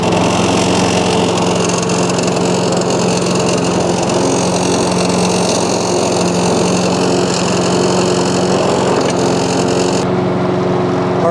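A lawn mower engine on a Portugal homestead runs continuously and loud, burning off oil that had gotten into its cylinders, with a steady droning hum and no pauses.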